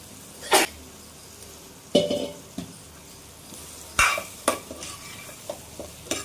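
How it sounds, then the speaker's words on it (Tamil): Bitter gourd cooking in oil in a pan, heard as a soft steady frying hiss broken by several separate loud stirring scrapes and clanks of a spoon against the pan, spaced a second or two apart. "அந்த காய் கொஞ்சம் இதிலேயே நல்லா வேகட்டும், அந்த எண்ணெயிலேயே."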